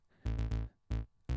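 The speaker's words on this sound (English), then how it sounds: "we've been through that synth bass" Deep, buzzy synth bass plays a short phrase of three quick notes, a pause, then another note and the start of a fifth, with nothing else playing.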